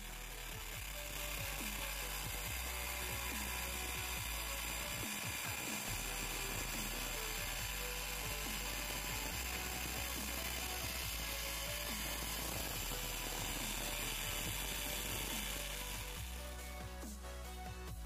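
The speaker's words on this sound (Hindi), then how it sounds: "अभी हम एंगल ग्राइंडर से इसको कट करेंगे" An angle grinder cutting through the thick steel body of an air conditioner compressor, a continuous loud, harsh grinding whine that runs steadily for the whole stretch with slight shifts in pitch as the cut goes on.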